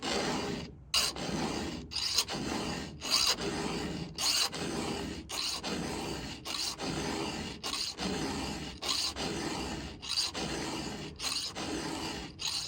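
A hand file sharpens the cutters of a chainsaw chain in steady, even rasping strokes, about one per second, each a bright scraping push broken by short pauses, close up and with no talking.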